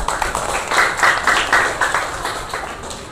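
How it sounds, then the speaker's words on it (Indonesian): A classroom of students gives a round of applause, a dense wash of hand claps swelling and fading in several bursts over about three seconds, fairly close and steady with no talk over it. "Kita beri tepuk tangan yang meriah."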